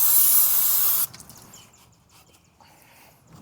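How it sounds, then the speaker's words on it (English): Brake cleaner sprays from an aerosol can onto the rear brake assembly of a Jeep Wrangler JK, a loud, steady close hiss for about a second that cuts off, leaving quiet workshop background. "I'm going to take some brake cleaner and just clean up inside of here the best that I can."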